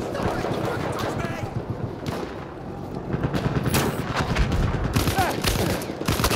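Dense gunfire from the World War I shooter Battlefield 1 fills a Domination match with overlapping rapid bursts and shots. Loud, close and continuous, with heavier booms mixed into the chaotic battle noise.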